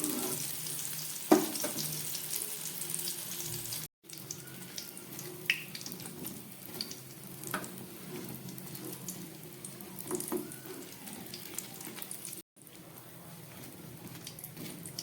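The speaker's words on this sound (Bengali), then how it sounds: "এইভাবে ঘুরিয়ে ফিরিয়ে দু পিঠ ভালো করে মোচার চপগুলো আমি ভেজে নিচ্ছি।" Banana flower (mocha) chops fry in oil with a soft, continuous sizzle, broken by occasional clinks and scrapes as they are turned over.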